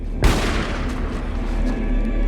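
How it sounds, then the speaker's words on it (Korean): A single gunshot-like boom in a mystery thriller film, a sharp loud blast followed by a sustained rumbling reverberation that fills the remaining seconds. "총소리?"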